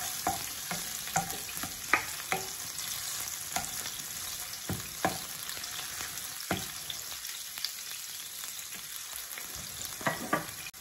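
Cumin seeds and ginger fry in hot oil for an Indian cauliflower curry: a steady, close, bright sizzle with scattered sharp crackles and pops throughout, and no voices.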